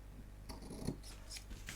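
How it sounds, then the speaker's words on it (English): A pair of scissors trims the ends of a ribbon bow on a papercraft perfume-bottle card, giving a few quick close snips and a soft rasp of blades against the ribbon, quiet and with no voices. "take my scissors and just trim"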